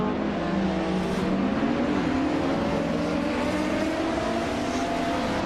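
Race cars in a video game launching off the start at Autodromo Lago Maggiore West, led by a retro GT500 classic Mitsubishi, with loud layered engine roars rising in pitch as they accelerate together, continuous and close.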